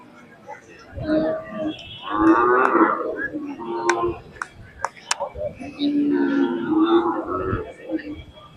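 Bullocks and cows low repeatedly at the Sangola livestock market, deep drawn-out moos up close amid a busy outdoor crowd, with sharp clicks and some speech mixed in.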